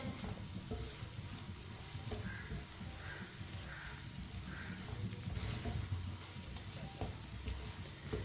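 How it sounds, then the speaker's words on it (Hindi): Spices frying in a pan over low heat hiss and sizzle steadily while a spoon stirs and scrapes them, close and continuous, with faint bird calls in the background. "मसालों को 1 मिनट के लिए मैंने पका लिया है चम्मच चलाते हुए"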